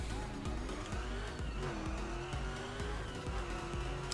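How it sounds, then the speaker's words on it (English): Supercharged car with side exhausts driving in The Crew racing game, a continuous engine drone with supercharger whine and shifting pitch, loud and steady throughout. "It has a really, really typical like supercharger noise."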